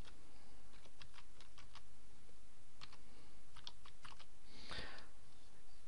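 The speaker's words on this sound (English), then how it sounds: "the first thing to do is to enter the domain name that you're thinking about registering" Computer keyboard keys tapped while entering a domain name into a registration site, heard as bursts of quick close clicks with brief pauses, plus a short rustle near the end.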